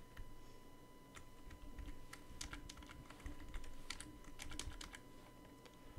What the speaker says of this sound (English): I will type in dependencies again